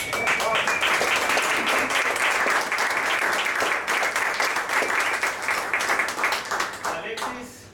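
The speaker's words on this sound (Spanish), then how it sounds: "Un otro aplauso." Sustained applause from a jazz concert audience, dense clapping filling the space at steady loudness before thinning out near the end.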